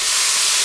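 A loud, steady hiss of steam as water hits a very hot wok holding oil, ginger, garlic, chili bean paste and mala seasoning for Sichuan spicy boiled beef tongue, filling the short moment without a voice.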